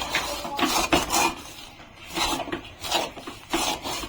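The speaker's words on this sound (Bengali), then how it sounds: "খুন্তি দিয়ে ভালোভাবে এবার নাড়িয়ে দিতে হবে।" A spatula scrapes and stirs thickening sugar syrup in a pan for besan laddu, heard as close, rhythmic rasping strokes with metallic scrapes, repeating steadily without speech.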